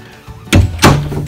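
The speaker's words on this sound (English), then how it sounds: "The door to the closet opens perfectly." A closet door in a home opens with two sharp, loud knocks and thuds in quick succession, heard up close in a quiet room with no talk.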